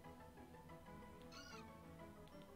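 A short, high electronic cry from Skitty, the kitten Pokémon, in Pokémon Platinum, sounding faintly over steady in-game background music.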